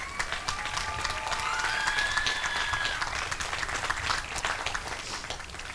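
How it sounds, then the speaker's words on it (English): Steady, dense applause from a large commencement crowd honoring campus custodians and facilities staff, sustained and even throughout with a faint whistle or tone rising briefly partway through. "please applause"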